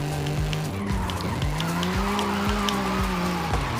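A car drifts in the video game Forza Horizon 5, its engine droning as repeated tire squeals rise and fall over several seconds, loud and close.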